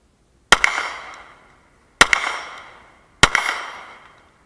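Three sharp pistol shots from a steel-frame CZ 75 B fired single action on a competition range, each a loud crack with a short decaying echo, spaced about one and a half seconds apart.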